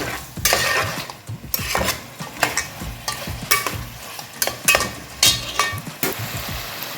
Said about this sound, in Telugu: అల్లం వెల్లుల్లి పేస్ట్ పచ్చి వాసన పోయేదాకా ఈ ముక్కలతో ఫ్రై చేద్దాము